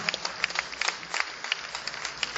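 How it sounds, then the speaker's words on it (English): A small audience at a live show applauds the promoter, scattered hand claps and a few sharper individual claps coming in quick irregular bursts. "we'd like to give our promoter a nice round of applause"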